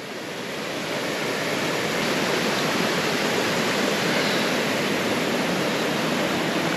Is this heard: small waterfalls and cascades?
yes